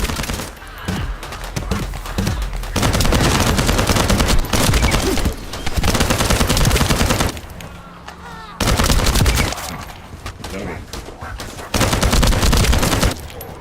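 Dense bursts of rapid gunfire in the video game The First Descendant, loud and close, coming in several sustained volleys separated by brief quieter gaps.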